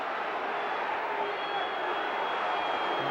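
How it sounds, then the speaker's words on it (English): A football crowd at a Coventry City v Liverpool match jeers a referee's decision, a dense sustained roar of displeasure filling the stadium, steady and loud throughout. "the crowd not happy with the referee's verdict"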